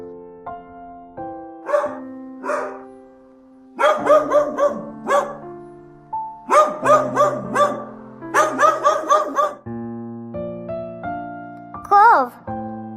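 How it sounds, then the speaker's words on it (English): A dog barks in a few short bursts over a cheerful children's backing melody, with a voice speaking briefly alongside. "Dog."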